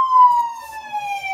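An ambulance siren in the Kuzbass horror video game, a single loud, steady wailing tone that glides slowly downward with bright overtones, sounding close and alone.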